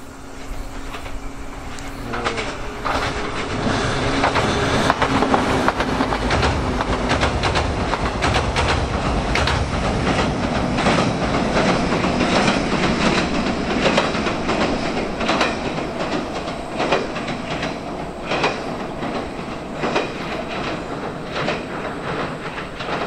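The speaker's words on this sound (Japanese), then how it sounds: "まもなく列車が通過します。" A JR 115 series train rolls steadily past up close in Niigata, Japan, for over twenty seconds, wheels clattering rhythmically over rail joints amid a broad mechanical roar.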